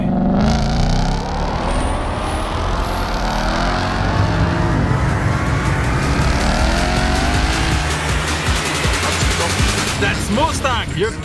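A Ford Mustang accelerates hard down an airfield runway. The engine roars loudly and climbs steadily through the gears, with rapid rattling pops near the end and continuous heavy engine noise throughout.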